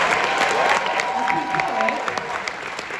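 Applause from a stand-up comedy audience at a debut special, a brief burst of clapping and some cheering that fades within about three seconds.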